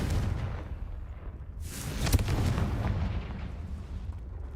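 A Confringo fire spell bursts in the video game Hogwarts Legacy, a loud explosive blast near the middle with a crackling rumble that lingers afterward under a steady game soundscape.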